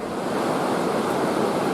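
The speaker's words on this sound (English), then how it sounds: "It's got some pretty good water flowing down it now." Snow-melt water rushes down a trail in a steady, broadband roar, loud and constant throughout, with no talking.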